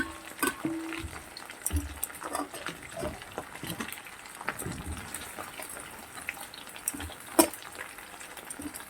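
Long-cut eggplant slices frying in a pan give a steady, moderate sizzle and crackle, with occasional louder pops and a few stirring clatters near the cookware; no voices are heard.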